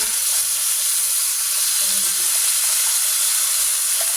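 Garlic and onion sautéing in a hot pan for corned beef with potatoes, giving a steady, even hiss and sizzle throughout with no break, close and fairly loud.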